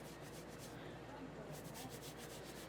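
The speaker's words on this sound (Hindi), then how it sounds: "हाथ से रब करें इस तरह से" Flour mixed with oil being rubbed together by hand for katori chaat cups, a soft, continuous, faint rustling and grainy rubbing close by with no pauses.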